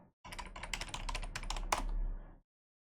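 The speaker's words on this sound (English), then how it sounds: "You're going to have to listen to me typing for a second." Rapid typing on a computer keyboard, a dense run of clicking keystrokes for about two seconds, close and fairly quiet, with no talking.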